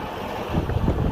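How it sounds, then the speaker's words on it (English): Strong wind gusting across an open farm field, a loud continuous roar of buffeting wind noise that swells slightly in the second half, with no voices. "And it's friggin' windy out here."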